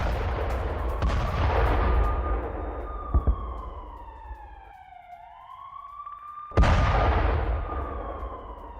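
Combat audio of a Javelin missile strike on a Russian T-72 tank in Donetsk, with loud blasts and sharp impacts around a rising and falling wailing siren-like whine, ending in a sudden heavy explosion.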